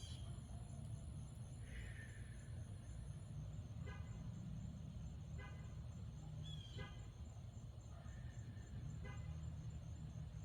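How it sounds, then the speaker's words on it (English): A neighbor's car beeping repeatedly outdoors by a lake, faint electronic tones sounding several times at irregular intervals over a steady background rumble. "I do not know what's going on with my neighbor's car, but that thing keeps on beeping like crazy"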